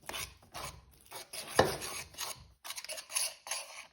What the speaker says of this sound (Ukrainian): Перемішуємо знову до однорідності.